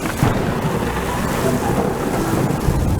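Thunder rolls through a storm, a loud continuous low rumble mixed with steady rain and wind noise, with no gaps across the few seconds.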